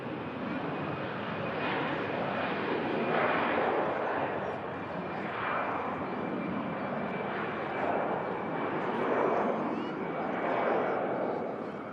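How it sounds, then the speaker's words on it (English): An EasyJet Airbus A320 takes off with a loud, steady jet roar that swells and fades in slow waves, a thin high whine running throughout, with no talk. "Just capture this EasyJet"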